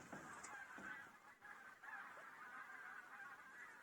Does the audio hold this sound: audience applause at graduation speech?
no